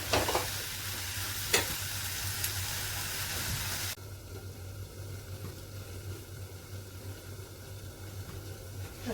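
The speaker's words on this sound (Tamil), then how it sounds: "இப்போ நான் இந்த வேக வச்ச உருளைக்கிழங்கு இந்த மசாலாவில் சேர்த்துறேன்." Boiled potatoes are stirred into a frying masala for potato pepper masala, giving a continuous close sizzle with occasional scraping knocks; the sound drops noticeably softer partway through.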